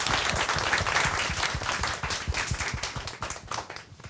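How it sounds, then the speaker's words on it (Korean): Applause and clapping from a studio audience at a life-lecture talk show, fairly close and lively, tapering off toward the end. "대단한 결심을 위해서 박수 한번 주시죠"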